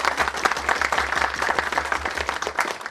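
Close, steady applause from a seminar audience fills the room, many hands clapping densely and evenly throughout with no clear pause.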